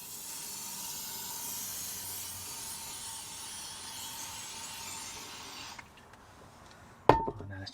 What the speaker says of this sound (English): So first I'm going to just spray it all and just see what happens.